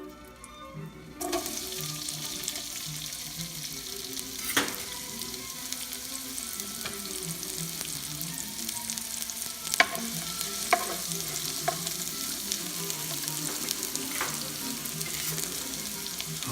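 Onions fry in a pan for beef goto with a loud, constant sizzle, broken by occasional clinks and scrapes of stirring.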